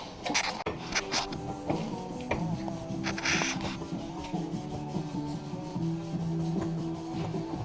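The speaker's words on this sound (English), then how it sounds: "Cleaning the axle so the bearings go back on smooth." A go-kart axle is scrubbed clean in a garage with repeated close rubbing and rasping strokes in an uneven rhythm, over a steady low hum, with no voices.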